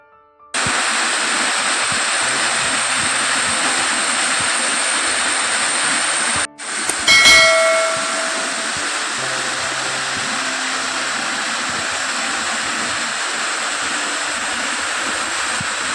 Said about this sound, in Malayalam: ഏകദേശം നൂറ്റി ഇരുപത് അടിയിലധികം ഉയരത്തിൽ നിന്നും വളരെ മനോഹരമായി താഴേക്ക് പതിക്കുന്ന ഈ വെള്ളച്ചാട്ടം